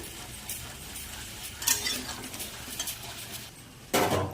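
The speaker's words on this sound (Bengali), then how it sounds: "আলু নিয়ে নিয়েছি, রসুন নিয়ে নিয়েছি। এগুলো একটু ফ্রাই করে নেওয়া হচ্ছে।" Potatoes and garlic fry in a pan for a mutton dish, with a soft sizzle under clinks and scrapes of a metal utensil stirring against the pan, ending in a louder clatter.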